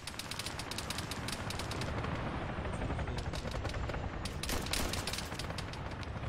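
Gunfire in the video game Arma 3 Altis Life, with dense rapid bursts of automatic shots and sharp cracks rattling continuously, loud and close, with no talk.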